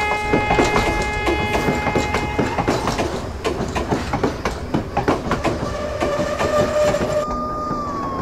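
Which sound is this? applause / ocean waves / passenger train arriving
passenger train arriving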